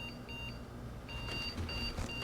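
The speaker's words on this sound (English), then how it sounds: "it's beeping before it even tries to post." A desktop computer beeps at startup before it can pass its power-on self-test, giving short, repeated electronic tones in a steady pattern over a constant fan hum.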